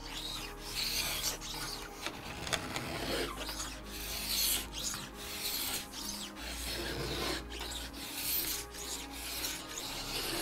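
Steady raspy scraping of a sidewall planer drawn along a ski edge, shaving sidewall plastic near the titanal sheet and fiberglass, repeated pulls forming a rough rhythmic filing texture, close and clear with no talking.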